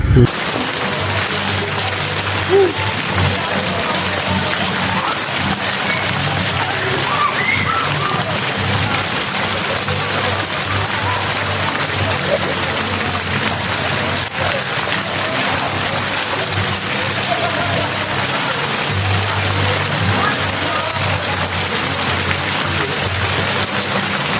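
Water churns and splashes in a very cold swimming pool as someone bathes, making a loud, continuous rushing slosh that lasts throughout without a break.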